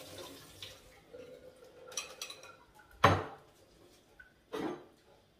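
Boiled broccoli is drained through a strainer in a home kitchen, with soft water splashing and a few sharp clanks of metal cookware against a quiet background.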